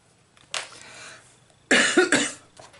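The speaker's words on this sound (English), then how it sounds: "Once this cough starts, it's so annoying what's left over." Two close, harsh coughs separated by a short pause, the second burst louder and more broken, with quiet room tone between.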